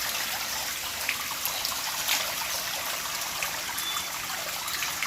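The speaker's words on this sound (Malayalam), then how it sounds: "അങ്ങനെ അടിയിലേക്ക് അങ്ങനെ ഇറങ്ങിപ്പോകും വെള്ളം." At a resort stream, water trickles and runs down over placed stones in a steady, close, hissing wash that stays even throughout, with no voices.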